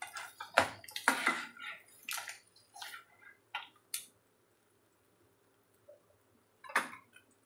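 Strained water from boiled clams is poured into a pan of fried masala, giving a few short splashing bursts early on, then quieter trickles and a final splash.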